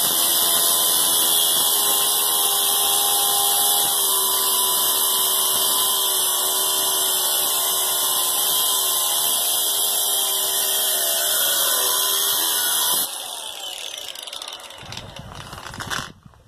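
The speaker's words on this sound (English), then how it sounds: "I'm gonna cut the awl thread with a angle grinder because it has a smaller kerf" Angle grinder cutting through all-thread (threaded steel rod), a loud steady high-pitched whine with shrill metallic cutting noise held for about thirteen seconds, then dropping into a rougher, fading spin-down.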